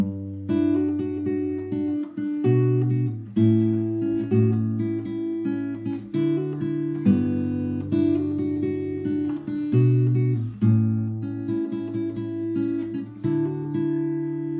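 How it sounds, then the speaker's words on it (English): Fingerstyle acoustic guitar plays the chorus of a song, a steady flow of picked notes over low bass strings, close and clear with no voices, ringing continuously for about fifteen seconds. "So, when you put the chorus all together, you should get this."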